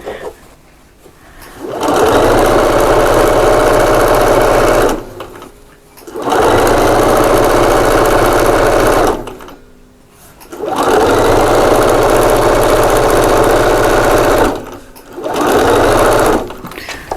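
Sewing machine stitching a quilt seam on a table runner, loud steady whirring runs of a few seconds each, separated by short pauses, close up.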